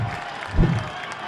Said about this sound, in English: And the homecoming crowd is going crazy.